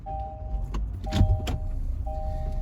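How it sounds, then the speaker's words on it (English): A car turns around on a road, its low engine hum running under a few sharp clicks and thumps, while a steady electronic chime tone sounds on and off. "I gotta turn the car around."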